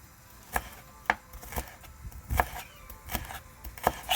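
Knife chopping garlic and seasoning on a board while cooking Jamaican curry goat, with about eight sharp, separate thunks at an uneven rhythm, close and fairly quiet.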